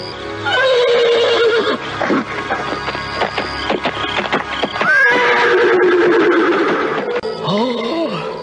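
A white horse whinnies loudly and close, with two long descending neighs separated by snorts and hoof clatter, and a final shorter call at the end.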